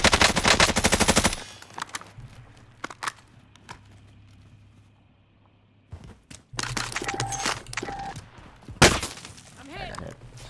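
Heavy automatic gunfire in the video game Modern Warfare Warzone: a loud burst opens, then fainter shots and game noise drift in, with another sharp burst and impacts toward the end, while players talk over it.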